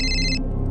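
A phone rings in a short electronic burst that cuts off partway, close and clear with a low hum beneath and no speech.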